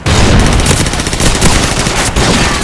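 Rapid bursts of Skorpion and Uzi submachine-gun fire in Call of Duty 4 team deathmatch, loud and near, a dense, almost continuous rattle of shots with brief dips.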